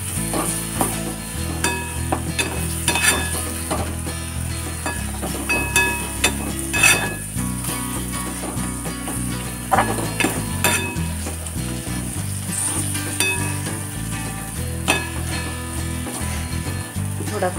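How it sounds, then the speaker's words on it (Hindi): Chopped tomato frying in a pan with a steady, loud sizzle, broken by intermittent stirring scrapes and clinks of a utensil against the cookware, with no talking. "इसमें मैंने एक टमाटर डाला है, वो अच्छी तरह से फ्राई कर लेंगे।"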